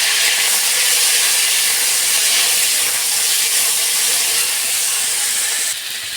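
Raw washed tomatoes dropped into hot oil tempered with mustard seeds, producing a loud, continuous broadband sizzle that hisses steadily throughout and eases slightly at the very end, with no voices.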